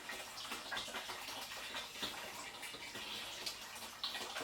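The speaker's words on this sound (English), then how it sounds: "The water pressure is not very good here. That's why it's coming out like that." A household tap runs at low water pressure while filling a container for strawberry cider, a steady, fairly faint splashing and trickling stream with small irregular spatters and no voices.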